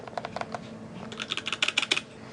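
Keys clatter on a Viktus Deltablade mechanical keyboard in quick, close, crisp strokes, building into a faster run of typing with no talking.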